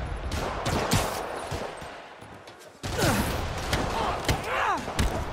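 Rockets fire and explode in a video game, with repeated heavy booms, whooshing launches and rumbling blasts coming in clusters, while voices chatter over the action.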